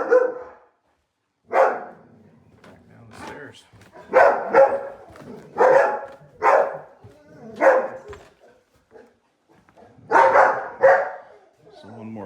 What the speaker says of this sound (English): So here the dogs are.